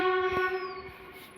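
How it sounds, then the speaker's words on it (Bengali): A train sounds a long, steady horn blast from a moderate distance, with faint rumbling underneath, lasting just over a second. "ট্রেনটার আওয়াজ আশা করি তোমরা সবাই পাচ্ছ।"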